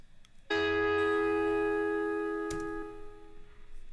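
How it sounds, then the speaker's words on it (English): A sustained guitar tail ringing out at the end of a recorded take, one bright harmonic-rich note or chord swelling in and decaying slowly over a few seconds with a faint click near the end. "There's a little tail at the end of every take, which just sounds like this"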